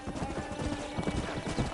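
Quick, close clip-clopping of a horse's hooves in the open-world Western game Red Dead Redemption, with a short neigh mixed into the dense, rhythmic hoofbeats.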